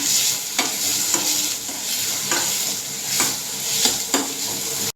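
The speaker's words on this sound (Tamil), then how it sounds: "வெங்காயம் போட்டுக்கலாம், போட்டு நல்லா வதக்கிக்கலாம்." Onions sauté in oil in a pan, with a continuous sizzle broken by regular scraping stirs roughly every half second, close and fairly loud, with no speech.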